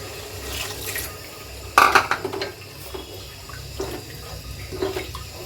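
Water poured into a pot of spices for chicken biryani, with bay leaves among them, a short splashing burst near the start followed by fainter trickles and stirring clinks over low kitchen background.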